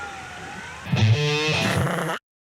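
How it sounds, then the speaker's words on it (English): A wailing police siren swells briefly, wavering in pitch with a distorted, processed edge before cutting off abruptly into silence. "Like those sirens in the background."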